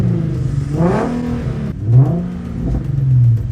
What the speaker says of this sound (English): so I decided to gas my car